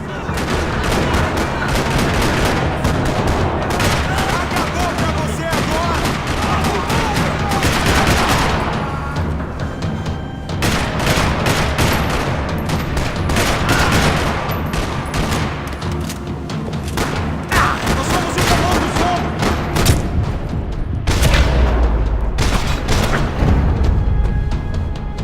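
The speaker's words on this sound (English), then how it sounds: "Another parking lot rattling with gunfire." Sustained gunfire echoes through a parking lot in Max Payne 3: dense rattling bursts and booming shots run almost continuously, with heavier deep impacts toward the end.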